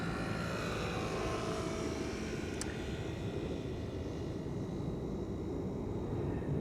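An airliner arriving at Amsterdam Schiphol gives a continuous engine roar with a high whine that slowly fades as it passes.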